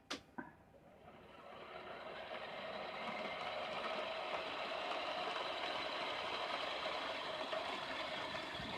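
A newly assembled fan spins up after a couple of sharp clicks, its airy whoosh swelling over the first few seconds and then holding a steady, fairly loud rush of moving air.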